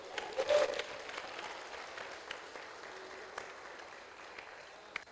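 Congregation clapping at a church worship service, a burst of applause swelling early then settling into softer, steady clapping with faint voices mixed in.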